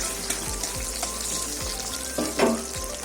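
Urad dal frying in a pan of hot oil gives a steady close sizzle with small crackles and a brief stir, no talking.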